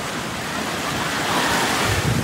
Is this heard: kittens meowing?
no